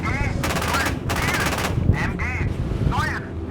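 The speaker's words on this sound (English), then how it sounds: "I am hearing small arms fire across the road right here" Small arms fire in the PC game Gunner HEAT rattles out in rapid bursts of machine-gun shots, loud and near, with pauses between volleys and a voice talking over parts of it.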